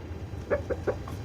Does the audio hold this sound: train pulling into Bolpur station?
no